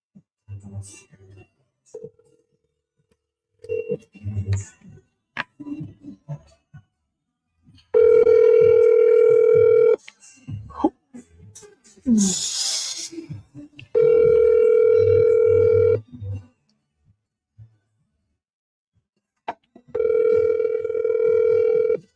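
A telephone dial tone sounds in three steady, loud bursts of several seconds each while a call is being placed, with someone talking in the gaps between them.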